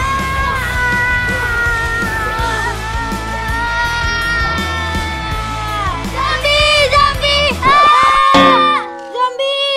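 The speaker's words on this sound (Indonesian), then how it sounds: "kenapa tuh teriak-teriakan?" Crowd of voices, including children, shouting and yelling loudly and continuously, with chaotic cheering-like bursts rising near the end before cutting off abruptly.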